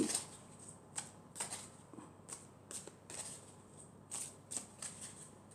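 Cards being shuffled and drawn from an elf oracle deck, a series of crisp, close riffling snaps and flicks repeating every half second or so against a quiet room.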